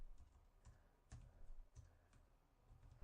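Fingers tap a computer keyboard in short, uneven bursts of light clicks, close and fairly quiet, with no voices.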